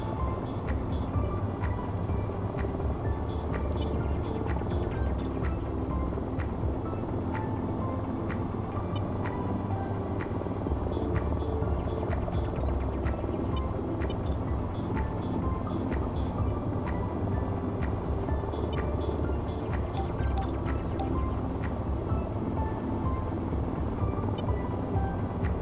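Helicopter rotors drone steadily in the VTOL VR flight game, a constant dense thrum that runs throughout with faint ticking and no pause.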